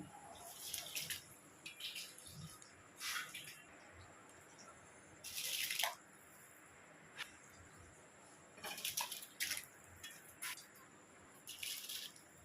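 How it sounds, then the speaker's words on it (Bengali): Rice is tipped into a pot of boiling salted water while cooking Kolkata-style chicken dum biryani, giving faint, brief splashing and pouring bursts that repeat irregularly over a quiet bubbling background. "জল ফুটে উঠেছে। এবার আমি চালগুলোকে দিয়ে দিচ্ছি।"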